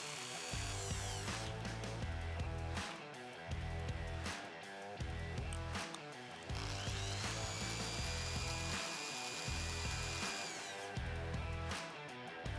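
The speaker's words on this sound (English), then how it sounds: "This gives us access to the two 10mm bolts that we need to remove from the bottom of the panel" Power drill or driver running in steady bursts while backing out two 10mm bolts from the plastic lower dash panel beneath the steering column of a Toyota Tundra, loud and close with short pauses between runs.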